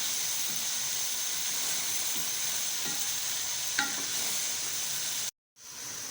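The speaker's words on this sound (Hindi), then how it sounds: "ऑयल डालकर आखिर में हम इसकी अच्छी से भुनाई कर लेंगे।" Carrots for gajar ka halwa roasting in oil in a pan, with a steady soft sizzle and occasional stirring scrapes, before a brief dropout near the end.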